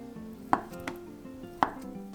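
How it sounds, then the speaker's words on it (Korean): A knife dices Spam on a cutting board, producing two crisp, close chops with lighter taps between them in a quiet kitchen. "햄 100에서 150g 깍둑 썰기 해주세요"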